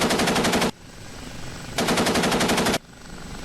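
The gun pod on an OH-58D Kiowa helicopter in DCS fires two loud, rapid machine-gun bursts of about a second each, separated by a quieter stretch of rotor and engine drone.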